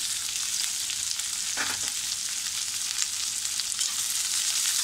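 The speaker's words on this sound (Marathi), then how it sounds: "व्यवस्थित आपल्याला हे गुलाबी रंग येईपर्यंत परतून द्यायचं आहे।" Onion sautés in a pan for a leafy vegetable dish, giving a loud, steady close sizzle with one brief scrape of stirring partway through.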